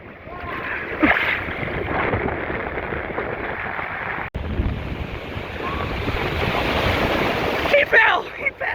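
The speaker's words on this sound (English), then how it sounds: "These waves are brutal." Heavy ocean surf crashes and churns near the mouth of the LA River, with strong wind buffeting the microphone and splashing throughout. A few loud bursts of water stand out over the continuous roar.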